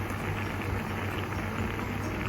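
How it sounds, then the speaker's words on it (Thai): Pot of water at a rolling boil with har gow dim sum dumplings cooking in it, a steady, dense bubbling and hissing that stays even and close throughout, with no voices. "ตรงนี้ลองต้มแบบติ่มซำแบบทั่วไป ให้ชมกัน"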